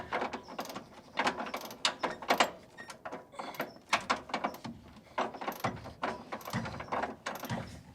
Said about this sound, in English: I might as well put the regular ratchet back on it